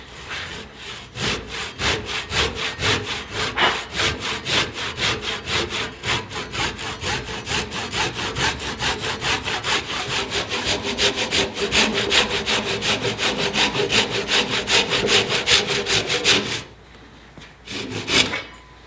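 A hand saw cuts a timber girt for a timber frame barn, a loud rhythmic rasp of fast, even back-and-forth strokes that stop near the end, followed by quieter scraping.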